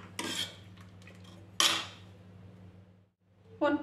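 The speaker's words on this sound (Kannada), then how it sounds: "ಇದನ್ನ ಸ್ವಲ್ಪ ಮ್ಯಾಶ್ ಮಾಡ್ಕೋಬೇಕು." Pressure-cooked lentils are mashed in a metal vessel with a spoon, giving a few sharp clinks and scrapes separated by quieter stretches, with a low steady hum underneath.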